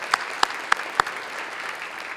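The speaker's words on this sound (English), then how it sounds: "if we can get a round of applause for all of those awardees" Audience at an annual meeting's recognition and awards session applauding the awardees, a steady crowd clapping wash with a few sharper individual claps standing out near the start.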